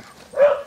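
A dog gives one short, sharp bark or yip, close and fairly loud, over a quiet background.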